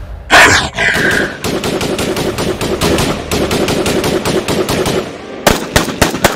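Loud bursts of automatic gunfire, rapid machine-gun volleys broken by short pauses and a few single shots, ring out alone as a sound effect in a dramatic aswang horror story set in Sitio Malabuan, Maguindanao.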